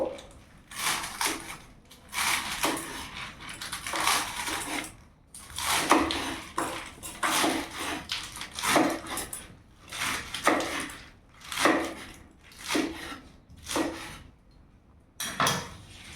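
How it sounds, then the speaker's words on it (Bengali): A kitchen knife chops fresh spinach into small pieces on a cutting board, giving close, repeated scraping thuds in irregular bursts that run steadily with brief pauses between strokes. "পালংটাকে আমি এইভাবে ছোট ছোট করে একটু কেটে নেবো।"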